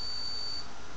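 A multimeter continuity tester emits a steady high-pitched beep as its two leads touch, faint and alone over low background noise for about a second.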